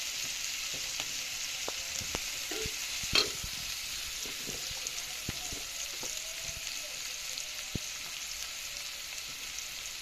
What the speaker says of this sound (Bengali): এগুলো ভালো করে ভেজে নেব, হালকা ভেজটা কালার করে নেব লাল করে